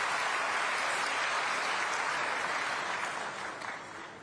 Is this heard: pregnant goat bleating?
no